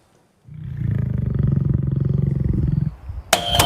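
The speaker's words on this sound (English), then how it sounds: "That is a lion purring." A lion purrs in a long, steady rumble of rapid low pulses, loud and close, starting after a brief silence and stopping abruptly before a short burst of noise.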